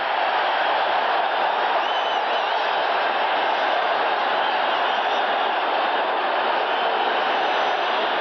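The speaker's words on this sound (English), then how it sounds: "now listen to this crowd" A huge football stadium crowd roars after a kick return at the 1985 Dallas Cowboys vs New York Giants game, a dense, unbroken wall of cheering noise that holds steady and loud throughout with no talk over it.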